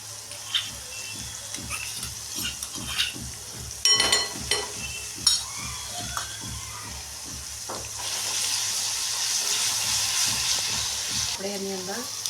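Ginger-garlic paste with cumin, asafoetida and turmeric sizzles in hot oil in a home kitchen, a steady frying hiss with clattering stirring taps in the first half and a fuller, louder sizzle in the second.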